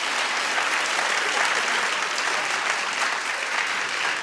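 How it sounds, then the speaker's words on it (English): Studio audience at a daytime talk show claps in a loud, dense, unbroken burst that stays steady for about four seconds, with no one talking over it. "Clap if you have anxiety."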